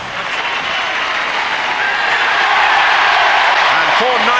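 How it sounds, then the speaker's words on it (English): A football stadium crowd at a Manchester United match in the 1994/95 season cheers and applauds in a loud, dense, unbroken roar, with a voice talking over it. "Just look at this crowd."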